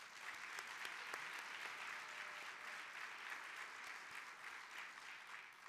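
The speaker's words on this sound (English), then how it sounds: "Let's give them another round of applause." Steady audience applause fills the hall at a Grad Nation Summit education event, many hands clapping continuously at even strength with no voices over it.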